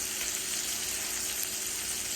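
Tomato-style puree for buttered chicken hitting a hot pan: a loud, steady, close hiss of frying and sizzling with faint stirring, no talk.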